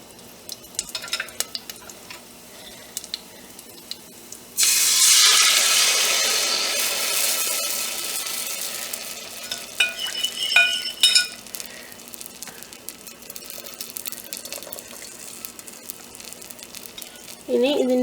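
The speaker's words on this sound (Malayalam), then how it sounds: "നമ്മൾ മാവ് ഒഴിച്ച് കൊടുക്കുക." Appam batter poured into a cooker over fried coconut pieces and onion bursts into a loud sizzle, then fades into quieter frying with utensil clinks and scraping, after a quiet opening of light kitchen taps.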